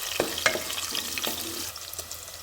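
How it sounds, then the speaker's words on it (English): Finely sliced onion stir-frying in cooking oil in a pressure cooker, a soft continuous sizzle with a few spoon clicks and scrapes. "Stir-fry the onions."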